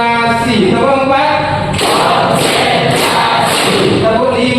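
A group of children chanting together in a classroom, then clapping in a counted rhythm: several loud, sharp claps in a steady pattern over the ongoing group voices.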